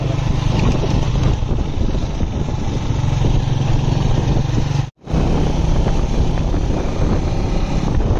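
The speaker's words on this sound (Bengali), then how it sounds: "আমার ছোট ভাই বাইক চালাচ্ছেন" A motorcycle rides along a road at night, with steady engine drone buried in heavy rushing wind noise on the microphone and a brief dropout partway through.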